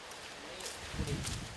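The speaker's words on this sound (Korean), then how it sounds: "열대우림에 스콜성 소나기가 쏟아지고 있습니다" A tropical rainforest squall shower pours steadily as a dense, continuous hiss, with some soft thuds and rustling mixed in and faint voices underneath.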